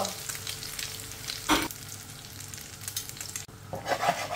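Eggs fry in mustard oil in a pan with a continuous close sizzle. Sharp stirring and scraping bursts break through it near the start and end.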